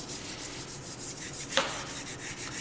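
A spoon rubs in small circles over paper laid on a rubber printing block, making a soft, continuous close-up rubbing hiss with a single faint tap partway through.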